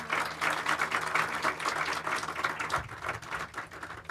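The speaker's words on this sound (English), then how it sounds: "So let's please give this man a round of applause." Audience clapping at a groundbreaking ceremony for the Clovis Community College Applied Technology Building, a sustained round of applause heard steadily for a few seconds, moderately loud and without talk.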